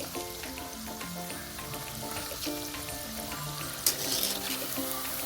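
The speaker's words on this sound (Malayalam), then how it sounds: "കുറച്ച് എണ്ണയ്ക്കകത്തിട്ട് വറുത്ത് പോരാ" Beetroot pakoda deep-frying in oil, a steady bubbling sizzle running throughout with faint clinks and a brief sharper crackle near the end; no talking.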